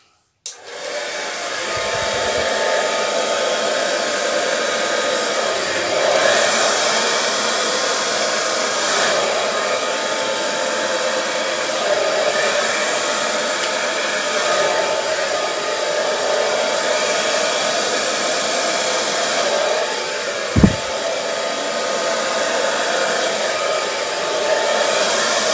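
A hair dryer blows steadily on acrylic paint during a violet, gold and bronze Dutch pour, a continuous close whooshing roar lasting throughout, with one brief sharp knock near the end.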